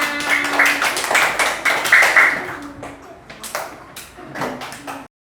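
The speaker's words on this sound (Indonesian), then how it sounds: "Tepuk tangan untuk Mbak Kirana" Elementary school pupils at SD 3 Demaan in Kudus clap for a classmate in a scattered way with uneven, separate claps. Voices ring over the claps, and the sound thins out and stops near the end.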